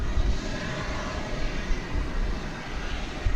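An airliner takes off from a runway at DFW airport, a loud, steady roar of jet engines with broadband rumble that fills the whole stretch, close and unbroken, with no voices.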